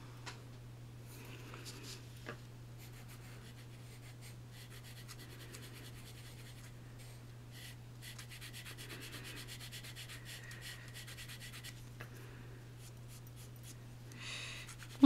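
A blending stump rubs colored pencil into paper, a soft, faint scratchy brushing that comes and goes in short strokes over a steady low electrical hum, with no voices.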